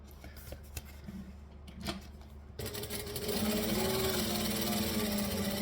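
A sewing machine stitching layers of fabric: a few clicks and handling noises first, then the motor starts and runs in a steady, close whirring hum until the end.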